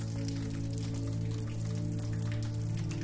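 Steady rain falls in a quiet village, a soft, even patter and hiss with no break, layered over low sustained tones of soft jazz music.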